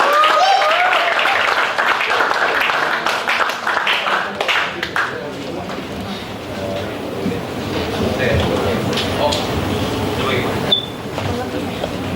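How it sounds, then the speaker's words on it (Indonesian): Applause from a church youth service audience welcoming a pastor to the stage, a busy clatter of hands that is loudest early and thins out, with voices talking through it. "Kasih tepuk tangan teman-teman."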